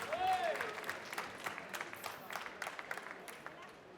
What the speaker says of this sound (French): Je vous demande d'applaudir sous un tonnerre d'applaudissements Charlotte Malaval